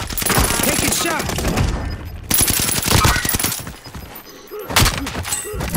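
Dense bursts of gunfire fill a Call of Duty: Modern Warfare match, rapid loud shots in overlapping volleys with brief lulls between them.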